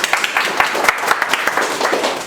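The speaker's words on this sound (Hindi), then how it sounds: "एक बार एमडी सर के लिए जोरदार ताली बजाइए।" A crowd of students in a classroom applauds loudly and continuously for their MD sir during a live electronics course session, dense overlapping claps with scattered louder slaps throughout.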